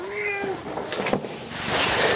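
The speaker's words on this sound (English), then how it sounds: "I'm going to introduce you to my cat." Oliver, a pet cat, gives a clear, close meow that slides downward, followed by a few softer rustles and small sounds in a quiet room.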